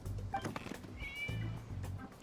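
A cat meows in Genshin Impact during the Irodori Festival event, one short high call heard faintly amid game music and background sounds.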